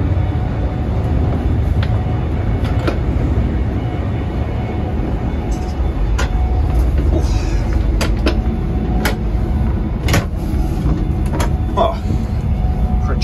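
An LNER Azuma train running at about 125 mph, heard from inside the carriage as a loud, steady low rumble and rolling roar, with sharp clicks and rattles from the rails and fittings breaking through at intervals.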